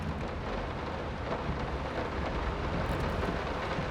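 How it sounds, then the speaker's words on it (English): Heavy rain beats steadily on a ceiling in the horror video game Layers of Fear, a dense, constant hiss and patter with no pauses. "I love the calm, soothing sounds of rain beating on my"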